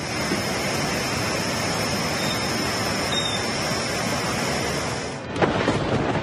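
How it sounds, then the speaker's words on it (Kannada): Heavy monsoon downpour in Karnataka, a dense, loud, unbroken roar of rain with a deep thunder-like rumble throughout, ending with a sharp crack near the close. "ರಣಾಮಳಿಯ ಆರ್ಭಟ ಜೋರಾಗಿದೆ"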